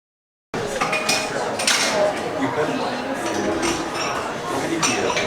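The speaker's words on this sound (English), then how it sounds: "I hope you can hear me in the cafe because it's a bit noisy" A busy cafe fills the air with clinking cutlery and dishes, steady clatter and chinks close by, with murmured voices mixed into the noisy background.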